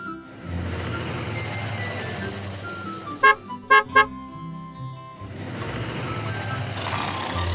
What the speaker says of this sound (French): Le camion peut partir.